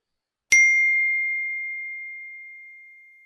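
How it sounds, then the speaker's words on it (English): A single bright text message notification chime rings out once, loud and close, then holds a long clear tone that slowly fades over about three seconds in otherwise silent surroundings. "The text message."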